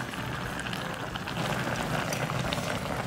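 Beef sizzles and simmers in sukiyaki broth with cognac, a steady close bubbling and crackling hiss that runs throughout without talk.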